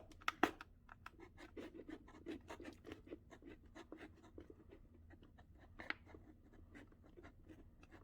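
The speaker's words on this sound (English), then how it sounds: "on these eye holes, I'll just saw up and down very carefully so I make sure I stay right on that line" Hand saw cutting eye holes along a marked line, with a steady series of quiet, rasping up-and-down strokes and a couple of louder knocks, close by and alone.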